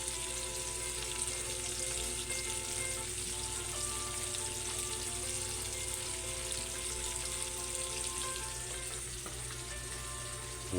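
GG fish frying in a pan for a Filipino meal with pinakbet, a steady, close, dense sizzle of hot oil that holds evenly throughout with no talking.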